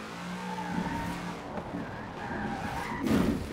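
A car drifts in Forza Horizon 4 with tires skidding and squealing over a steady engine drone, growing louder toward the end.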